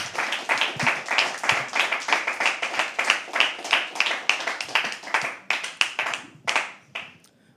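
An audience at a live poetry open mic claps steadily and rhythmically for several seconds, loud and close, then the clapping thins out and fades to scattered claps.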